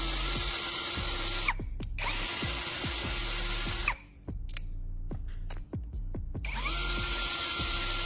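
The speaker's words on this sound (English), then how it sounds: "I'm going to drill several holes into a wooden board" Electric drill boring several holes into a wooden board: a loud, steady motor whine that runs continuously, drops out briefly twice as the trigger is released, then resumes with short clicks and bumps.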